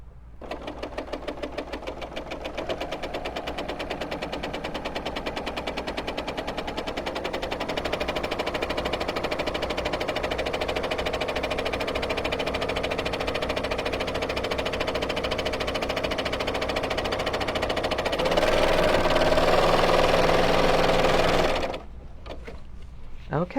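A BERNINA L 850 overlocker stitches a rolled hem, running with a fast, even mechanical whir and chatter for about twenty seconds before stopping abruptly.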